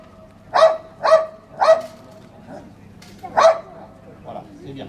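A dog barks aggressively during a canine training demonstration, five sharp barks in quick succession at close range, then a short pause, with a fainter bark and some human voice between them.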